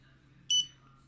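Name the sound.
Andoer A360II camera beep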